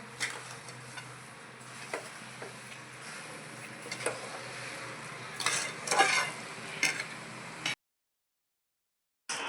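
Carrot halwa being stirred with sugar in a pan, giving a steady scraping and soft sizzle with occasional louder spoon strokes against the pan, then a brief pause near the end.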